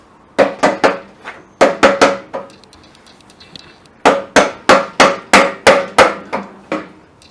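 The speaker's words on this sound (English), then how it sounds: "now I'm going to hammer on the old shaft here" Sharp metallic hammer strikes on an old pulley shaft of a Toro 724 snowblower ring out in two bursts, a quick cluster of blows, a pause, then a longer run of evenly spaced hits, close and loud.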